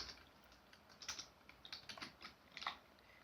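Quiet, irregular clicking of computer keys as code is typed, a short burst of soft keystrokes over a low background hiss with no talking.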